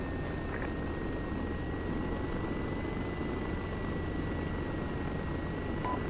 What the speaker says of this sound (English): My helicopter was slowing down.